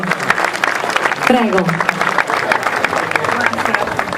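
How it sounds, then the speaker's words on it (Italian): Audience applause for students at a literary and songwriting competition award ceremony, loud brisk clapping from a close crowd with chatter and a voice speaking briefly over it. "Eccoli che arrivano e parte il vostro applauso"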